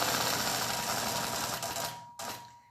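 A sewing machine stitching in the ditch along a quilting ruler runs in a fast, even mechanical whir, then slows and stops near the end with a short final burst of stitches.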